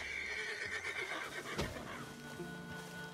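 A horse whinnies in Red Dead Redemption 2 while hunting a wolf out in the scrub, a loud neigh rising midway over steady ambient game noise and soft hoof sounds.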